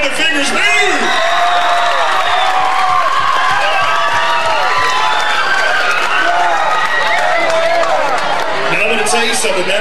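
A high school grad night crowd at a hypnotist show claps, cheers and whoops loudly and continuously, with shouted voices mixed into the din throughout.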